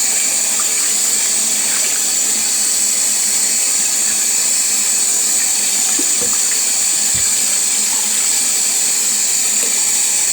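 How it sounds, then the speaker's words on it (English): Salt mackerel being rinsed under running kitchen tap water: a steady, continuous hiss of flowing water into a sink, with a few faint clunks, no talking. "First we're going to wash it with running water, tap water, to get out some of the salt"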